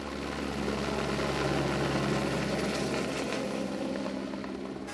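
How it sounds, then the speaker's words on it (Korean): A helicopter spraying insecticide against mosquitoes in the Florida Keys drones steadily with a broad engine and rotor roar, holding at a constant moderate distance for several seconds. "헬기를 동원해 대량의 살충제를 살포해 보지만"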